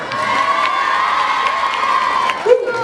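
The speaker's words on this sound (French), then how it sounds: "Alors s'il vous plaît, un tonnerre d'applaudissements pour Sofiane." A crowd at Paris Games Week, a gaming event, cheers and whoops with children shouting, steady and moderately loud throughout, with a brief louder burst near the end.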